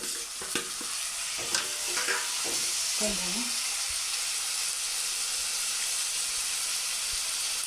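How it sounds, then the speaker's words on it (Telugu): Onions, paste and tomato sizzle in a pan while a utensil stirs and scrapes them, with a few sharp clattering strokes early on, then a steady close frying hiss. "ఎర్రగడ్డలు వేస్తున్నాను. పేస్ట్ వేస్తున్నాను. టమాటా వేసేస్తున్నాను."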